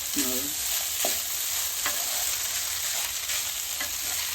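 A spoon scrapes and stirs semiya upma through a hot pan in several distinct strokes, with a steady low sizzle running underneath throughout and no voices.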